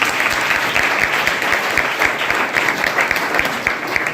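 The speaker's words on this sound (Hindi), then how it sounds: "मैं चाहता हूं उसके लिए तालियां बजाएगी" A crowd claps steadily with sustained, dense applause throughout, at a Teachers' Day event at a junior college.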